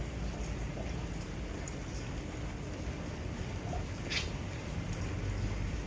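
Steady rain falls on a wet morning outdoors, a dense, even hiss of drops that holds at the same level throughout with no pauses and no voices.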